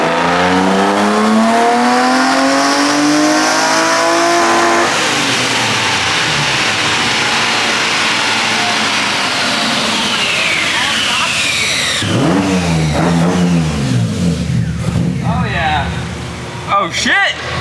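An ITB-swapped BMW E30 with an S52 engine revs hard on a dyno, a loud sustained engine note sweeping up and down before dropping off, with voices near the end.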